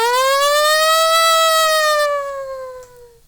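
A single human voice imitates a siren, a sustained wailing tone that rises slightly then slowly falls and fades over about three seconds, loud and close with no other sounds.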